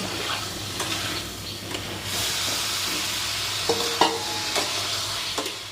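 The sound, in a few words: fried potatoes frying and stirred in masala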